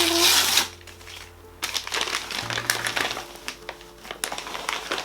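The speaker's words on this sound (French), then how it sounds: "J'ai reçu encore un autre paquet, donc on va l'ouvrir." A received parcel being torn open by hand, with sharp bursts of crinkling and ripping packaging that come close and loud in uneven clusters, while a voice talks in between.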